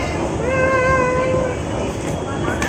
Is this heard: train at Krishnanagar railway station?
yes